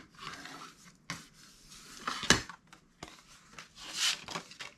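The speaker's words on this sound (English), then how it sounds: "Use my big old spatula to get that nice and stuck" A big old spatula presses and rubs down a freshly glued paper pocket card in a few scraping strokes, close and fairly soft, with gaps between strokes.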